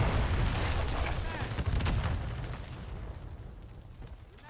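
Gunfire and explosions in the shooter Call of Duty: Modern Warfare III rumble and crackle continuously, with booming blasts and scattered shots that gradually fade slightly, while a player talks over the noise.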